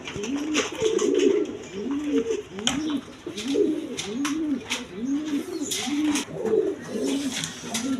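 Big Indian Kaldom pigeons coo in a steady run of rolling, repeated calls, fairly close and clear, with occasional sharp chirps and clicks around them.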